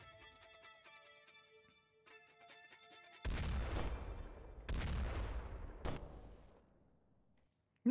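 Loud gunshots from the video game OpenXcom, three heavy blasts with echoing tails after a quieter stretch of tonal game music, then a sharp final crack.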